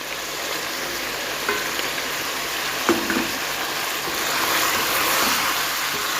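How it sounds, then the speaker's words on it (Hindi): Chicken with nihari masala frying in a pan, a continuous dense sizzle with occasional soft stirring scrapes, steady and close throughout. "निहारी मसाला डाल के इसको 5 मिनट तक अच्छे तरीके से फिर भुनाई करनी है इसकी"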